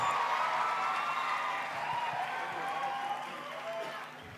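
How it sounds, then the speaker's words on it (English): Graduates applauding themselves at a university graduation ceremony: a broad, distant wash of crowd clapping and cheering in a large venue, mixed with a sustained hum and voices, gradually fading toward the end. "Class of 2025, give yourself a round of applause."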